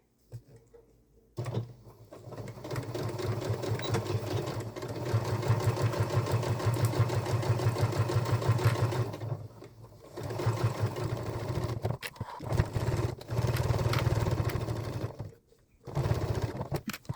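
Sewing machine running basting stitches on a fabric iron caddy project, a steady mechanical whirring hum in long bursts separated by short pauses and clicks, close and fairly loud.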